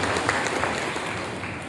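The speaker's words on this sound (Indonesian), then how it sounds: "kita beri tepuk tangan dulu untuk Kepala Dinas kita" Audience at a 2022 ecumenical Christmas gathering of teachers in Sekadau applauding the head of the district education office, loud, dense, continuous clapping throughout.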